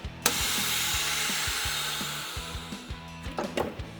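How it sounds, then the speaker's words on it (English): A vacuum sealer pulls air from a bag holding liquid with a steady, loud motor whir and a rhythmic pulsing underneath, ending in a few brief clicks and thumps as it seals. "unlike most other vacuum sealers that sucks the liquid out through it, this guy is going to allow us to suck all the air out of the bag"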